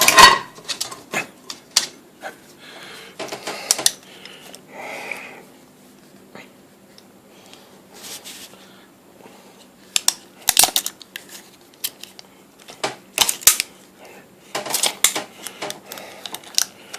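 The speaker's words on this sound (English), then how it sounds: "Trying to get this tape out and get it locked." A tape measure is pulled out and locked, producing scattered metallic clicks, rattles and sharp snaps in irregular bursts, with quiet pauses between them and no talking.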